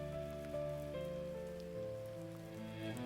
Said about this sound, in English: The rain fell against the windows.